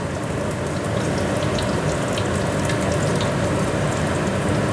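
Food frying in hot oil until golden brown, a dense steady sizzle and crackle that stays even and moderately loud throughout with no talking.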